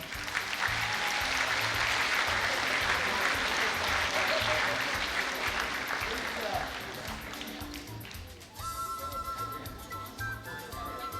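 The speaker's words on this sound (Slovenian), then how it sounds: "dajmo jim pomagati z enim velikim aplavzom." Loud, sustained applause from a large audience fills a hall at a high school graduation dance, with dense clapping that eases slightly toward the end as music begins to enter.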